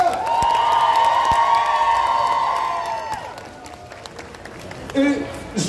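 An audience at a Paris fan festival Q&A cheers and claps loudly, with high shouts and whoops that swell early and then fade, before a voice starts speaking near the end.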